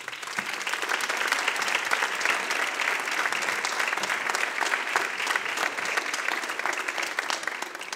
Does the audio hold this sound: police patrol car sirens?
no